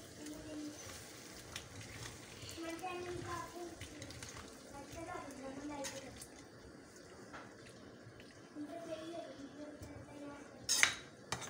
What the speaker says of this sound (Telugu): మంచిగా మిక్స్ చేసుకోవాలి.